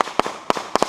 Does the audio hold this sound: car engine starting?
no